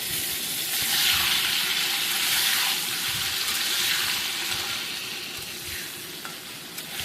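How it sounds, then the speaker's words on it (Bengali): Eggplant frying with green chilies in hot oil, a steady close sizzle that swells and eases slightly across the stretch, with no one talking. "কাঁচা লঙ্কা দিয়ে আর একটুখানি ভাজা করে নিতে হবে"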